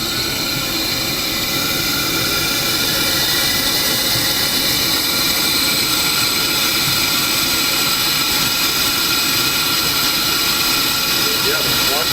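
The Zephyr train runs during a brake test, giving a loud, constant broadband rush and hiss with a low rumble underneath. It is close and steady throughout.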